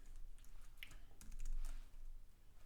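Quick typing on a computer keyboard, a run of soft key clicks at close range with a low background hum.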